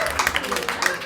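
A comedy club audience claps and cheers for the sound engineer, a brief burst of scattered applause with a few voices mixed in.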